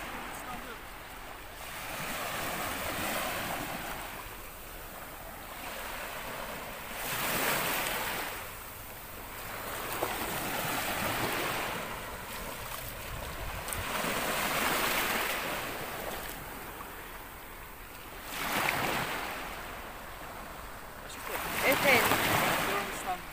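Waves break in periodic broad swells on a wild Mediterranean beach, each surge rising and fading every few seconds, with wind over the microphone and faint voices in the background.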